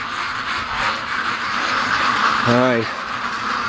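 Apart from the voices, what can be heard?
ducks approaching, quacking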